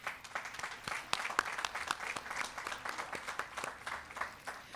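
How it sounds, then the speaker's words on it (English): An audience applauds at a high school graduation ceremony, a lively burst of many hands clapping with sharp individual claps standing out, fairly close and steady for several seconds. "they deserve a round of applause"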